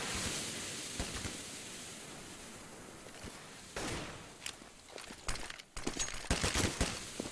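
Distant M4A1 rifle gunfire in a Counter-Strike match, a scatter of sharp shots and short bursts over faint background noise, getting busier and louder toward the end.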